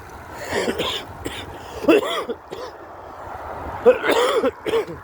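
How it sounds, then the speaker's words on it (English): Someone nearby coughs and clears their throat repeatedly in rough, irregular bursts, with quiet background noise between the spasms. "Oh no, not this coughing fit now."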